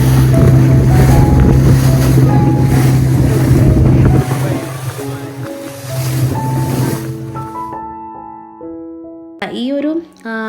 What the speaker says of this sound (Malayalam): ഫൈനലി നമ്മളുടെ ബോട്ട് സ്റ്റാർട്ട് ചെയ്തിട്ടുണ്ട്. അപ്പോൾ വെള്ളത്തിൻ്റെ ഇരമ്പലും നല്ല രസമായിരുന്നു കേട്ടോ അത്.